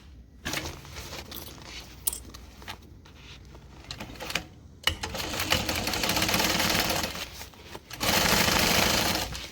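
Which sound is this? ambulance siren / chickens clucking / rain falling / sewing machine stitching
sewing machine stitching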